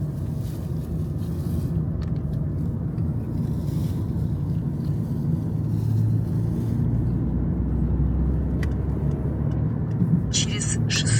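Steady low rumble of a car driving slowly around a village, continuous engine and road noise with wind buffeting throughout, and faint voices and a short chime near the end.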